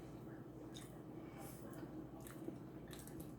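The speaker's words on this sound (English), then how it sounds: "I eat a crab leg." Crab leg from a seafood boil being eaten, with faint close-up wet squishing and crunchy bites in short bursts over a quiet background.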